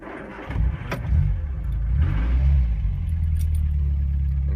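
A 1973 Ford Cortina GT replica cranks and fires up nearby, the starter whirring briefly before the engine catches and settles into a loud, rumbling idle with slight revving surges.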